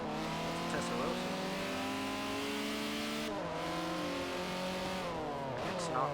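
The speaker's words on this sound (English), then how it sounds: "that's a Ferrari. That's a Testarossa." A Ferrari Testarossa engine drones steadily with rising and falling revs and a sharp gear change midway, loud and continuous, while people talk over it.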